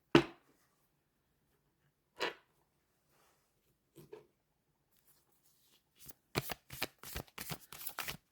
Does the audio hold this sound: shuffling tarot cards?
yes